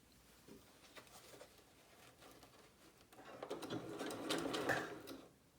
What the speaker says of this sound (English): all I want to do is stitch the ends of my elastic